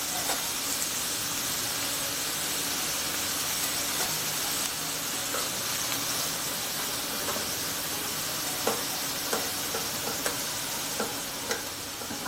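Zucchini noodles cook in a hot pan with a steady, bright sizzle and hiss throughout, close and even, broken by a few light stirring clicks and taps.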